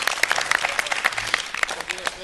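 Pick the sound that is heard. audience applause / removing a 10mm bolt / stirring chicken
audience applause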